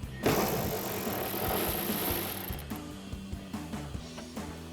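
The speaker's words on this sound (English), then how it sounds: "So grab a 10mm socket to remove that." A 10mm socket ratchet loosens a rear spoiler nut on a 2024-2026 Mustang GT, opening with a rough rasp and then settling into rapid, steady pawl clicks close by.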